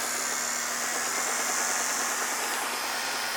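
A Garvey table-top chain conveyor driven by a 90-volt variable-speed DC motor runs with a steady, even mechanical hum and faint rattling, constant and moderately quiet throughout with no talking.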